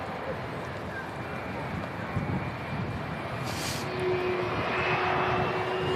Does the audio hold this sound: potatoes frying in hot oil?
no